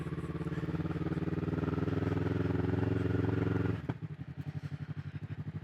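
A 2021 Kawasaki Ninja 400 idles with a steady, close rumble, then a sharp clunk as it drops into gear and the engine note changes to a pulsing, uneven throb as the bike begins moving off.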